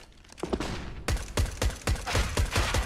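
Rapid gunfire in the video game Counter-Strike: Global Offensive during a competitive esports match, with sharp repeated shots in quick bursts, loud and close.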